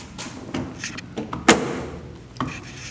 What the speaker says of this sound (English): now that whole door should just come right off